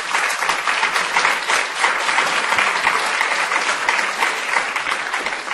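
Sustained audience applause in a university lecture hall, dense steady clapping from many hands throughout, fairly loud, with no talk over it.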